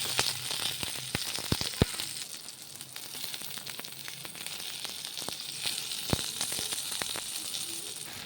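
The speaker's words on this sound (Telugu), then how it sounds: "ఇప్పుడు ఇంకొంచెం ఆయిల్ వేసుకొని ఇదిగోండి టమాటా కూడా వేయించుకుందాం" Tomatoes frying in oil in a pan, a steady close sizzle with occasional sharp crackles and pops, and no talking.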